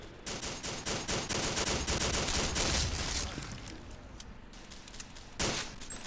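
Gunfire in an armed-forces video game, dense rapid bursts of automatic shots crackling for a few seconds, then fading to sparse isolated pops with a final loud burst.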